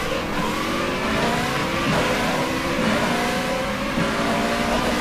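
A Formula Renault 3.5 race car in the rFactor2 racing simulator on a Malaysian circuit, its engine revving loud and continuous at high pitch with rising and falling gear changes as several cars battle closely.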